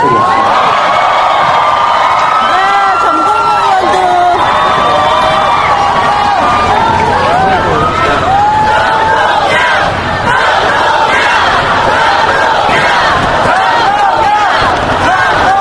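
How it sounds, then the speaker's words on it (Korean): A crowd roars and cheers loudly for Korean politician Chung Dong-young, with dense overlapping shouting and whooping that stays close and sustained throughout, voices rising in waves. "대선 이후에 이렇게 환호하는 거 처음 느껴보시죠?"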